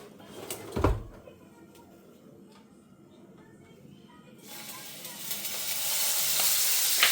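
Spice paste hitting hot oil with nigella and chili, a clatter and then a low simmer that swells into a loud, steady, hissing sizzle for the last few seconds.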